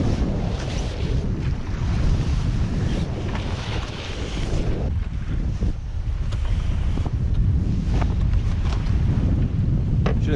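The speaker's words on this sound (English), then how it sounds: "It's very windy." Strong wind at sea buffets the microphone in a constant roar aboard a sailboat in the Caribbean, with water sloshing and rushing around the boat; no voices.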